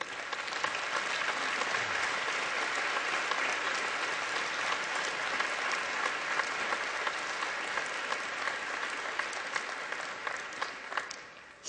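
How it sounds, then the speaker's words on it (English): A graduation audience gives honor graduates a sustained round of applause, dense and even clapping filling the hall steadily from start to finish, with no speech over it. "would you please stand and remain standing so that we may applaud you?"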